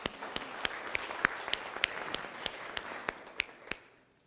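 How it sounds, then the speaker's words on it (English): A small group applauds during a coaching session, sparse and fairly faint, with individual claps standing out in a loose, uneven rhythm before trailing off at the end. "Let's give a round of applause right there for sharing"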